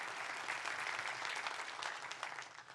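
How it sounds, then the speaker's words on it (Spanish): A church congregation breaks into sustained applause, a dense wash of many hands clapping at a distance that holds steady and slowly tapers. "Denle un fuerte aplauso a Dios por eso."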